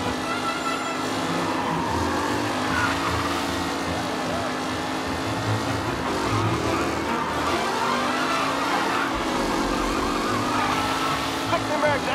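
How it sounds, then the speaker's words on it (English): Race cars roar around a track in Mafia: Definitive Edition, a dense, continuous engine drone with shifting revs from several cars close by, steady and loud throughout over a race commentator's voice. "The race leaders roar into the second lap."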